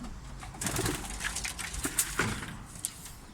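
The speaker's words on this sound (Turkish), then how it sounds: "İşte burada posta güvercinlerim var." Homing pigeons in a loft give soft, low cooing calls, with several murmuring coos and light rustling up close over a quiet background.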